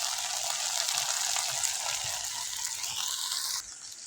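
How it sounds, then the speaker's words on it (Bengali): Okra (bhindi) frying in a pan, a dense, steady hiss of sizzling oil close by that drops slightly in level near the end. "ভেন্ডি ভাজি করতেছি।"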